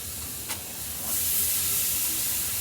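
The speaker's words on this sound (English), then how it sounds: "Here, a nice little sear." Pork steaks searing on a hot Weber kettle grill running around 400 degrees, giving a steady broadband sizzle and hiss that swells after a moment and holds loudly, with a brief tick early on.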